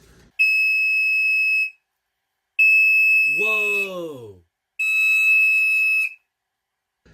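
Chloride Pyrotector 3077ARF5 smoke alarm piezo sounding during a test: three loud, steady high-pitched shrieks of about 1.3 seconds each, with a brief startled exclamation cutting in over the second tone.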